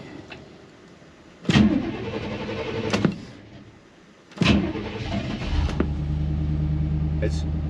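A forgotten Chevy van cranks twice on a cold day of around 30 degrees, each start a loud surge that falls back, before the engine settles into a steady idle rumble, with someone talking nearby.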